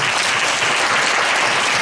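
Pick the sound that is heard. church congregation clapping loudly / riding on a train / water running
church congregation clapping loudly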